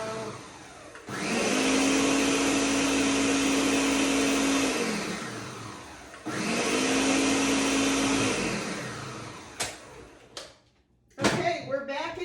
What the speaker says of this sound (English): You don't need to blend this in the blender a long time.